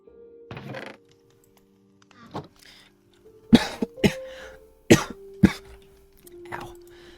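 A man coughs in a series of sharp, close, uneven bursts after spit goes down the wrong pipe, with throat clearing and short pauses in between, over a faint steady hum.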